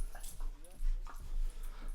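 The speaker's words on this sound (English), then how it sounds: "I got the dog in here too." A dog whimpers and yips indoors at a hunting camp, with short whiny cries repeating over about two seconds alongside people talking nearby.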